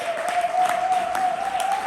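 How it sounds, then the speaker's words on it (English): An audience at a poetry slam applauds a poet with brisk, even clapping that holds steady, while a thin sustained tone runs faintly underneath. "even applaud the poet"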